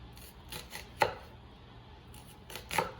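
A knife chops an onion on a cutting board in a few crisp, separate strikes, close and fairly quiet, with short gaps between the cuts.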